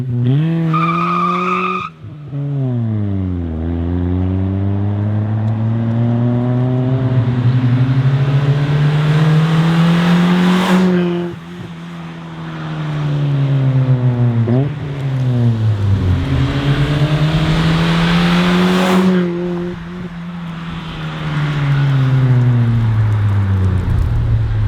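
Honda Civic EG engine revving hard through repeated rising gear pulls while driving, loud and close, with brief shift dips and strong continuous drone throughout.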